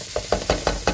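Fried rice with garlic, onion, carrot, green peas and shredded chicken being stirred in a pan: about five quick, evenly spaced scraping knocks of the utensil over a soft sizzle.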